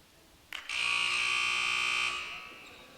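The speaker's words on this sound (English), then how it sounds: "Now the buzzer just went off for both teams to get back on the court." A loud, steady electronic buzzer blares for about a second and a half at a women's college basketball game timeout, then cuts off, with faint background noise around it.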